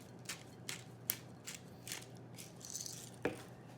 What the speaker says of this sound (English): So I'm grinding in some of the pepper.